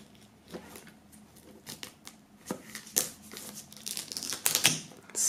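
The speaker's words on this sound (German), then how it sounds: "werden wir das Ganze mal aus der Folie befreien" Plastic shrink-wrap foil being torn and peeled off a boxed CD/music box set, with scattered crinkling and crackling bursts that build in density and loudness toward the end.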